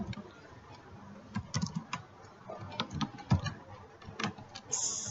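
Quiet typing on a computer keyboard, with scattered bursts of key clicks in an irregular rhythm over a few seconds.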